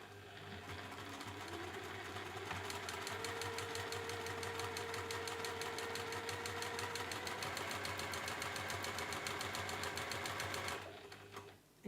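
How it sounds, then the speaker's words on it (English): Sewing machine stitching fabric down one side of a corner cover bookmark, a close rapid rhythmic chatter with a low motor hum, running steadily for about ten seconds before stopping. "let's sew down one side."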